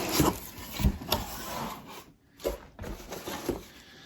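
A new faucet's cardboard box is pried and pulled open up close, with rubbing, scraping and tearing bursts, a brief near-silent gap, then more rustling handling.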